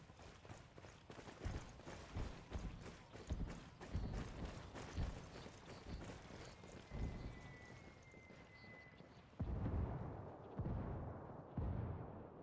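Mortar fire in a multiplayer video game match, a series of dull thumping impacts spaced about half a second apart, followed by a few heavier booms near the end, moderately faint.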